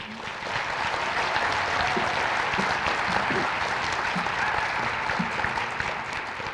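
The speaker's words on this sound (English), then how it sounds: "The Alta High Hawks applaud Tracy Raymond as their school's 2021 Teacher of the Year." A school audience applauds Alta High's 2021 Teacher of the Year, sustained loud clapping from a large crowd with scattered cheers, steady throughout.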